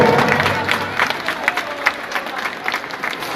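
An audience applauds a children's choir at a Christmas carol contest in a basilica cathedral in Ayacucho. The clapping starts loud and dense, carries some cheering, then settles into a steadier, slightly thinner patter.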